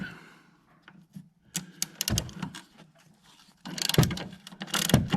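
Ratcheting wrench work on a rear shock bolt of a 2017 Ford Escape, with bursts of clicking and metallic clanks, quiet at first and busier toward the end.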